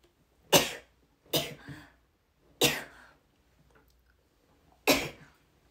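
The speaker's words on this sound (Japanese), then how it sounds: "やば、めっちゃ出るやん、くしゃみ。" A young woman sneezes four times, close and loud, on a live stream: sharp bursts with a quick double sneeze near the start and quiet pauses between.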